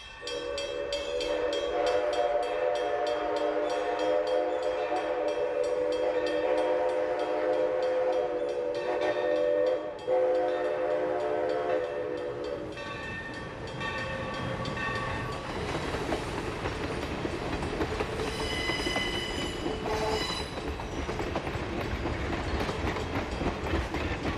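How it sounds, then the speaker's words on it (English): The whistle of New Haven 3025, a steam locomotive on the Valley Railroad, sounds at length, then wheels rumble and clatter along the track at speed, with more whistle blasts near the end. "The train has now hit track speed"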